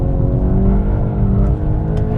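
A VW Golf R or GTI Clubsport Mk 8.5 accelerates hard on a race track, its engine giving a loud, close, steady droning roar with rising harmonic tones and no talking.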